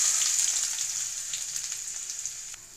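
One cup of onions frying in four spoons of hot oil in a kadai for a spinach egg burji: a bright, steady close-up sizzle that eases slightly over time, with no speech.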